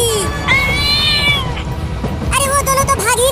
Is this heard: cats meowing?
yes